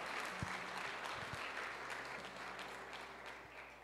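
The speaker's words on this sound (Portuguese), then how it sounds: "Uma salva de palmas aqui para o nosso Cristo." Church congregation applauding, a moderate round of clapping from the room that gradually thins out, with a few low thumps underneath and no speech.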